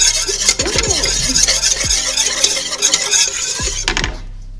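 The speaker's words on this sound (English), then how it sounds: "So you want to make sure you whisk that flour and roux well." Flour roux whisked in a pan for mac and cheese, a continuous close scratchy rasp of a whisk against the metal pan with intermittent clinks and a faint sizzle.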